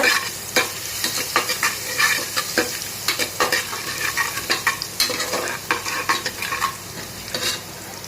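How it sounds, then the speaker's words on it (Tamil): Crushed garlic is stirred into a hot pan of rice rasam, with a continuous oily sizzle broken by repeated scraping, clattering strokes of the spoon against the pan, close and fairly loud. "அந்த பூண்டையும் இதில் போட்டு நல்லா மிக்ஸ் பண்ணி விடுங்க"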